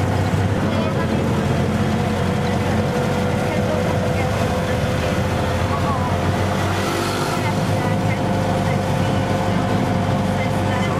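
Steady engine rumble and road noise from a moving Willys jeep in Armenia, Colombia, continuous and fairly loud throughout, with wind buffeting the microphone.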